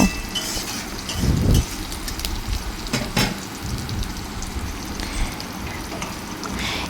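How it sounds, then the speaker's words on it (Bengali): Chopped onions and green chillies fry together in a pan with a loud, even sizzle, a spatula scraping and clinking now and then, no voices. "এবার পেঁয়াজ আর লঙ্কাটাকে একসাথে ভেজে নেব"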